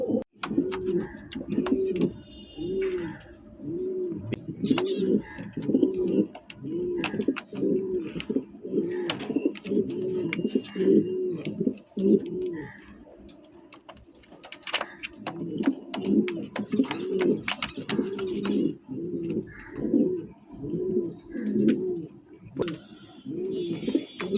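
King and Shiraji Lahori pigeons coo in steady, rolling repeated phrases, fairly close, with a short lull midway, light chirps and faint background voices.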